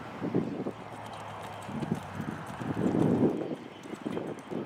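Hoofbeats of a versatile reining horse picking up its leads through rollbacks and a big stop, clip-clopping in an uneven rhythm over a steady wind rush, no talk.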